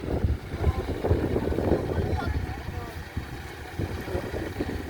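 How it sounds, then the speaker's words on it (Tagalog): Wind buffets the microphone with a steady low rumble, while people talk nearby and a boat engine hums in the background. "Tapos mga hangin dito."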